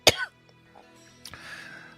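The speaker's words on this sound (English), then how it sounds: "cheap tobacco cough" A narrator voices a raspy smoker's cough from cheap tobacco: one sharp, harsh bark up front, then a brief throat-clearing rasp later, close and otherwise quiet.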